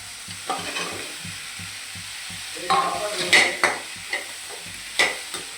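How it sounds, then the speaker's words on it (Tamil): Broccoli and baby corn sautéing in a pan, with a soft background sizzle broken by scraping stirs and several louder spatula knocks toward the end. "நம்ம வதக்கிங்க."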